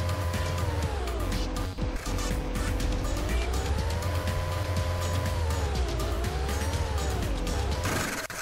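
A car engine in a video game drones loudly and continuously, its pitch rising and falling as the vehicle speeds up and slows down while driving.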